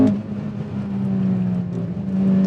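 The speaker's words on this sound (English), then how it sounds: "That VTEC crossover, man. That VTEC crossover is something else." A 2002 Honda Accord Euro R engine pulls hard in third gear through its VTEC crossover, with a loud, continuous in-car engine drone that dips briefly and then climbs again in pitch, and no talk.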